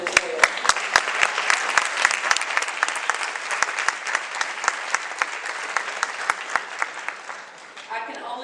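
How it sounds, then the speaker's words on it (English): An audience applauds the judges at the Miss Indian North Carolina pageant with steady, full clapping, sharp individual claps standing out, fading slightly near the end. "let's have a big round of applause for them as well"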